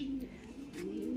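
A racing pigeon coos softly in a short, low, rounded call, close and alone without talk.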